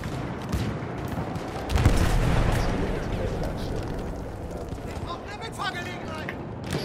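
Bomber attack in Battlefield 1, with heavy explosions and booming impacts over dense gunfire and battle noise, one big blast swelling near the start while players talk throughout.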